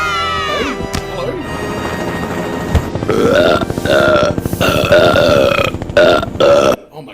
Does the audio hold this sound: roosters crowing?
no